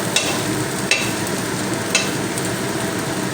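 Vegetables stirred in an oiled kadai, with a steady close-up sizzle of frying under a few scraping strokes of a spatula against the pan.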